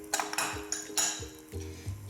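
Chicken being mixed in a saffron cream sauce with parsley, heard as a few close metallic scrapes and clinks of a utensil against the pan over about two seconds, with no talking.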